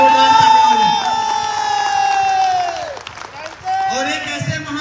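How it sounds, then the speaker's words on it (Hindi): A seminar audience at a network marketing event in Haridwar claps and cheers loudly while a sustained, amplified musical tone plays through the hall, with the crowd noise briefly dropping and then swelling again. "मैं चाहूंगा एक बार उनके लिए जोरदार तालियां हो।"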